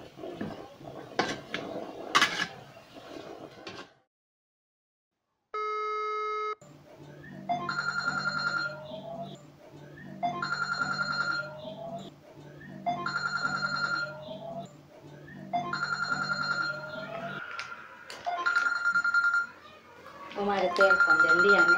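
A telephone rings in a repeating pattern, several rings with pauses between them, after some earlier talking and clatter.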